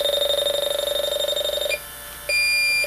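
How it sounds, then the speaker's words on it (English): A Yellow Jacket AccuProbe leak detector sounds its audible alarm during a leak-standard bottle test: a steady electronic tone holds, drops away briefly, then returns at a higher pitch, close and alone. "you will only get an audible alarm"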